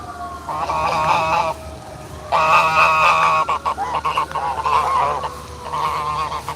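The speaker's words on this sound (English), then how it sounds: "Gotta watch these geese." Geese honking loudly and nearby in repeated bursts of harsh nasal calls, several overlapping, over a low background rumble beside water during fishing.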